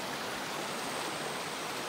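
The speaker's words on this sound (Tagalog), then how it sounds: "Nasa gilid kami ng ilog." A clear river flows beside a riverside motorcycle campsite, a soft, steady rushing of water close by, with no voices.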